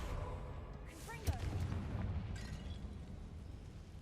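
A Confringo fire spell explosion in the video game Hogwarts Legacy bursts with a low boom and crackling roar over a dense, rumbling game soundscape, with a voice talking partway through.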